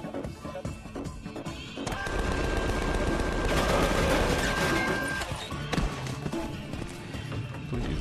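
Game gunfire aimed at a robot in Tales from the Borderlands, a dense stretch of rapid shots and metallic impacts building to a loud peak in the middle, then trailing off into scattered hits.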